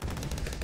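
Rapid tower fire in Bloons TD6, a fast stream of short, punchy game shots repeating in an even rhythm, heard alone and at moderate level without speech.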